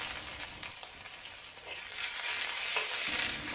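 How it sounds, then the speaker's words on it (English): Green vegetables stir-frying in hot oil in a wok give a steady, close sizzle across the whole stretch, with scraping stirs and brief bursts of crackle, and no voices. "Stir fry the vegetables until tender."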